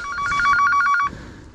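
Mobile phone ringtone goes off during a downhill mountain-bike shuttle ride near Medvedgrad, Zagreb: a loud, close run of rapid repeating electronic tone pulses lasting about a second, then cut off, leaving low vehicle rumble.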